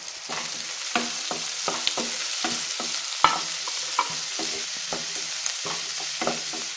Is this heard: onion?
yes